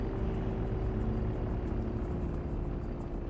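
A propeller aircraft in a first-person flight video game comes in to land on a runway, its engine a steady, fairly loud drone with a pulsing beat and no talk over it.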